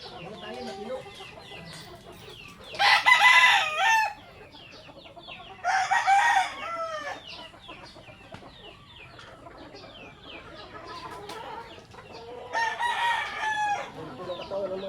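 Farmyard chickens and roosters, with three loud, drawn-out cock-a-doodle-doo crows standing out over steady clucking and a faint murmur of background voices.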